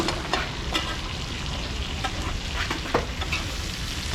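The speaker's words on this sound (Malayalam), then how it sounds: "ഒരു ഹാഫ് ഫ്രൈ ആക്കിയിട്ടുള്ളൂ. നമ്മുടെ മീനിങ്ങനെ മറിച്ചിടുവാണ്." Fish and large crab half-frying together in a pan over a stove at a seaside spot, a steady close sizzle with occasional soft clicks and stirring bumps, no voices.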